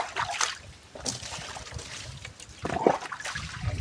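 Water running and splashing during washing, close by, with uneven trickles and small splashes rising and falling in loudness.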